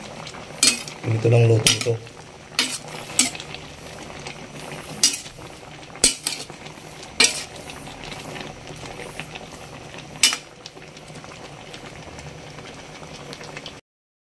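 A metal utensil stirs a pot of inabraw with sitaw, knocking and scraping against the sides in irregular clanks over a soft bubbling simmer, with a brief spoken remark near the start.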